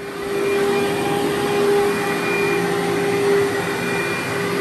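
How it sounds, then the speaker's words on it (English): A vacuum cleaner runs across a furry carpet in a room, a steady, loud, close drone with a faint whine and no voices over it. "now we're vacuuming the second room. In the carpet."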